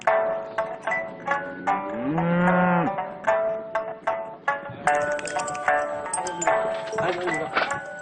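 Cattle on a farm moo in several drawn-out calls at close range, with other shorter lowing sounds and clanking around them.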